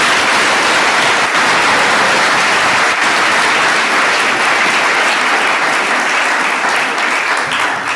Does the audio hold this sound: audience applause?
yes